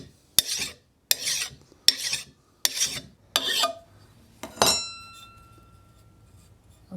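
File strokes rasp across the single bevel of a steel cutting mattock head, five separate pushes in a steady rhythm, close and fairly loud, then a brief metallic ring as the file lifts away.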